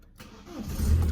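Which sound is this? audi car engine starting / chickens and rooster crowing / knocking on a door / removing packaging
audi car engine starting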